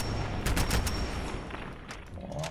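A short volley of gunshots in Fallout 4, several quick cracks in a cluster followed by a trailing echo and fading background noise.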